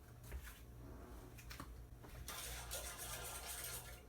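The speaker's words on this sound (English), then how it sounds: "I better go stir that milk." Milk heated in a pot for homemade yogurt is stirred steadily, giving a soft, continuous swishing and scraping that grows fuller and louder partway through, with no talking.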